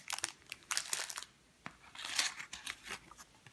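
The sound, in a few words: crinkling plastic Haribo candy bags being unpacked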